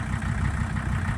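A 1985 Mercedes 300 D turbo diesel idles steadily, a low, even rumble with a faint rhythmic chug, moderately quiet and close, with no voices.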